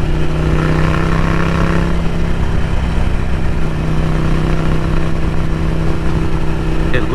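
A Ducati Scrambler Café Racer fitted with a Vance & Hines exhaust idles close by with a loud, deep, steady rumble that stays constant throughout, with no talking over it.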